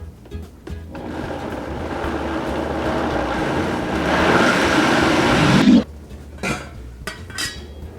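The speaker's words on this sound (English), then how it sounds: "now we're going to blend all of this up together" A blender whirs through cashew cheese fondue ingredients, a steady loud grinding that swells toward the end, then cuts off abruptly, followed by a few brief kitchen clatters.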